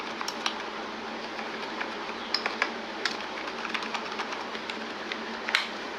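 Typing on a computer keyboard, scattered quiet key clicks at an irregular pace over a steady background hum.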